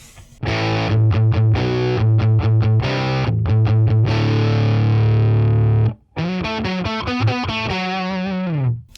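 Heavily distorted electric guitar through a Boss Katana amp on its BG Drive setting, modelled on a Mesa Boogie Mark II B, playing loud chugging palm-muted riffs and sustained chords with a thick, boomy low end, alone with a brief gap near the end.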